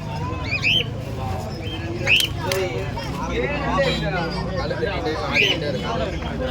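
Pigeons at the Simmakkal pet market in Madurai give short chirps and squawks against a steady crowd hubbub, with people talking throughout.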